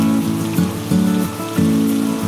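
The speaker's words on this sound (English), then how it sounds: "The rain and wind have made it impossible to paint outside" Rain and wind outdoors at Rocky Harbour, Newfoundland, in Canada, a loud, close, continuous wash of rain with a pulsing, surging undertone, no voices.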